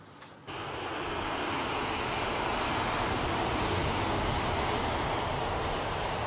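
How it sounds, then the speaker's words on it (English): An Egypt Air passenger plane departs, its engines a loud, steady roar that swells in after a brief quiet start and holds broadband and unbroken throughout. "Egypt Air Flight 778 has departed"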